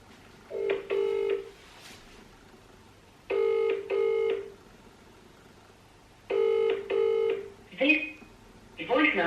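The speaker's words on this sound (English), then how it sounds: "so I might as well give her a quick call" A phone call being placed: three bursts of tonal ringback or dialing beeps with clear gaps between them, followed by a short electronic chirp and the start of an automated voicemail voice, heard alone and fairly close.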